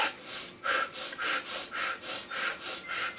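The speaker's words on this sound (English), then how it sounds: "When you breathe out, are you sucking your stomach in and then feeling like you're blowing up a balloon?" Rapid rhythmic breathing exercise with forceful exhales while pulling the stomach in, about eight quick, close, audible puffs of breath in steady succession, with no speech.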